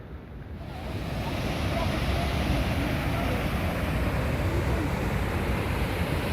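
High Force waterfall sends up a steady, loud roar of rushing water, heard close by and continuous, swelling in over the first second and then holding level without a break.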